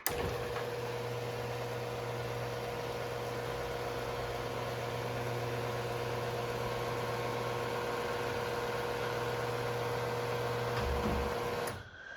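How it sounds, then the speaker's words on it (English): An uncased Genie IS550/A garage door opener motor runs steadily on its own for about twelve seconds, giving a continuous mechanical hum with a low drone, and stops abruptly near the end. "Without the case, this is a very quiet motor."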